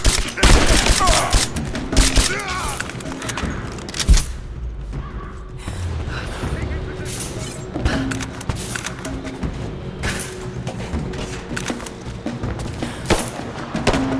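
Gunfire fills a Rise of the Tomb Raider firefight with dense bursts and rapid shots. Heavy thuds and booms are mixed in, and the shooting runs loud and almost without a break.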